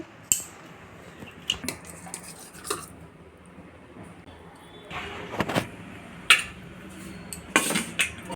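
Dishes and cutlery clinking as food is served into a bowl in a home kitchen, intermittent close clatters and scrapes, busier toward the end, with someone speaking at times.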